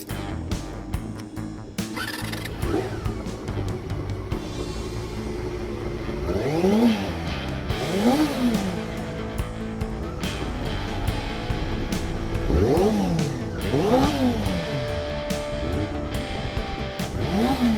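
Honda CBR250RR with a small high-revving DOHC four-stroke engine, spinning toward 18,500 rpm, rising and falling in repeated sharp revs, several bursts climbing and dropping over steady background noise, loud and close.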